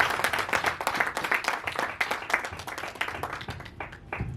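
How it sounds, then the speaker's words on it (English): Audience at a public speaking contest claps in a dense, steady round of applause, many hands close and fairly loud, with no voices over it. "Another resounding round of applause, ladies and gentlemen"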